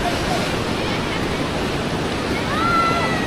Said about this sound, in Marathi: हा जो धबधबा आहे इथून हशी नदी येते